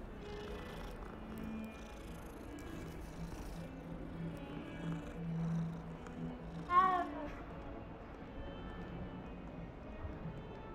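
Cats in the video game Hogwarts Legacy purr and mew faintly over a steady low game ambience, with one clearer meow standing out briefly partway through.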